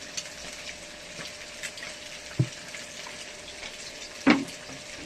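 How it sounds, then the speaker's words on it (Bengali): Mustard seeds with a little salt toasting in a hot pan, a soft continuous sizzle and crackle with a couple of brief sharper pops, no talking. "আগে সর্ষেটাকে ভালো করে ভুনে নিই"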